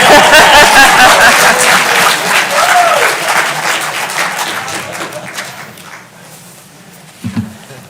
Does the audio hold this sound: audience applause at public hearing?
yes